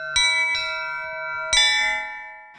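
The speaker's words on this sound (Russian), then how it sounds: "если в новом строящем храме ударишь в колокол" A bell in a newly built church in Kazan rings out twice, each strike ringing on with a long, shimmering decay; no voices.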